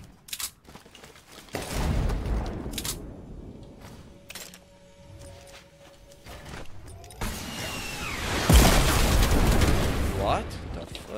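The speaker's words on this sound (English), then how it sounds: "Tac shotgun. Tac SMG." Tactical shotgun and tactical SMG fire in Fortnite, with loud bursts of gunshots and explosive blasts in a busy match, strongest near the end, while a voice talks throughout.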